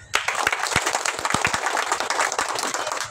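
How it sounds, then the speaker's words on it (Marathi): Audience applause at a senior residents' birthday celebration, steady dense clapping from a crowd with a few sharper individual claps standing out, sustained loud throughout without speech. "त्यांच्यासाठी सगळ्यांनी जोरदार टाळ्या वाजवा।"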